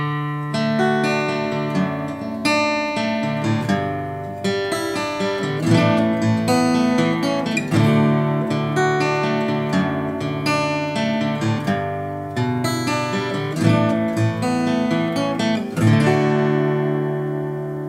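An acoustic guitar playing the chords of a song with a suspended chord, mixing picked notes and strummed chords in a steady rhythm, close and clear with no voice.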